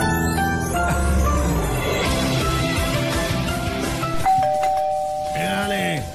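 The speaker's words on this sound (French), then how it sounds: "quand c'est pas les journalistes de gala, c'est la sonnette." A doorbell rings at a residence with a ding-dong chime cutting through music and busy chatter, ending on a sustained bell tone near the end.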